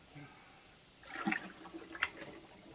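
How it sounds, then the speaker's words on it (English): Runny driveway sealer poured from one pot back into another outdoors, giving two short liquid splashing and glugging bursts over a quiet background, with no speech. "So I'm going to pour this one back in that one."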